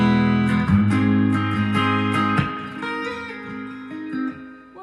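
Electric guitar strumming a chord, sliding up one semitone and back down, with sustained ringing chords and a few re-strikes, played alone and up close.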